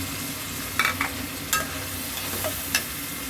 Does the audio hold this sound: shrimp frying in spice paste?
yes